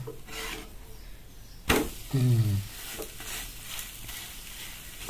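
Chillies, tomato and onion frying in a pan while being stirred, with a soft steady sizzle and a louder scraping, rubbing stir around the two-second mark, close by and with no talk.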